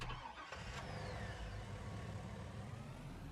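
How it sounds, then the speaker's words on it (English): A pickup truck engine in Farming Simulator 19 cranks and starts near the beginning, then settles into a steady low rumble that continues to the end; the sound is quiet overall. "We're just going to go ahead and buy ourselves a pickup truck to drive around."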